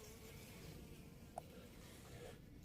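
A steady, soft buzz of honeybees in a hive in its winter cluster hums throughout, close by, low and continuous with no voices.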